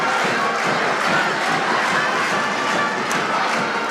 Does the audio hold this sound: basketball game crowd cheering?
yes